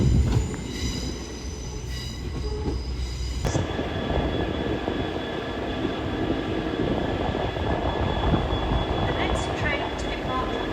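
A train on the London Euston to Holyhead via Chester service pulls away, giving a steady, fairly loud rail rumble with sustained squealing wheel tones throughout.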